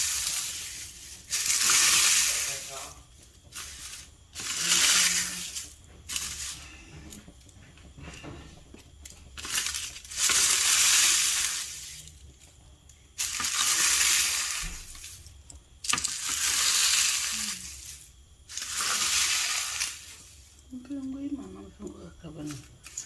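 Dried neem leaves broken into pieces by hand over a tray, giving repeated bursts of crisp crunching and crackling with brief pauses between handfuls.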